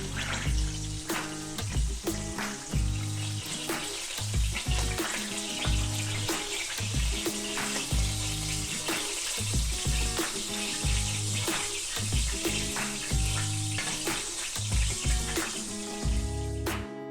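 Duck breast pan frying, a loud, dense and continuous sizzle with crackle and spatter that stays steady throughout, with no talking over it.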